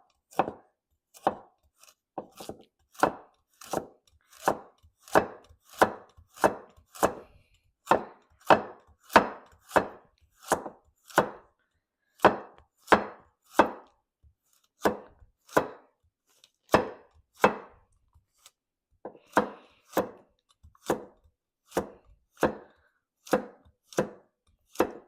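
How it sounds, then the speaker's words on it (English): A knife chops carrot on a cutting board in a steady run of about forty crisp, close strikes, each sharp and evenly spaced, with no voices. "I will cut the carrot now."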